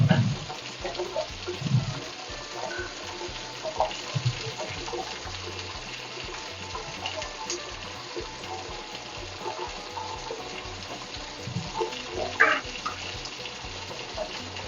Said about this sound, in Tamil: இந்த பக்கம் மீன் ஃப்ரை ஆகிடுது.